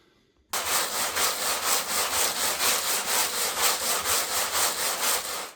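Vigorous shaking of a 1985 Suzuki RH250 motorcycle gas tank during cleaning, a loud steady rhythmic sloshing and rattling that starts abruptly and keeps a fast even pulse throughout, with no voices.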